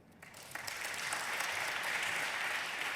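Audience at the PRECIOUS Awards 2015 applauding a group of award presenters, a steady, dense clapping that swells within the first half second and holds evenly and fairly close throughout, with no voices over it.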